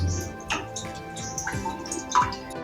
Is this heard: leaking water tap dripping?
yes